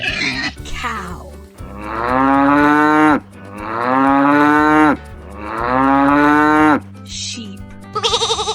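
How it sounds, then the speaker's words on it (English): Cow mooing three times in long, loud, drawn-out lowing calls with short gaps between, preceded by a brief voice and followed by a short electronic jingle. "Cow."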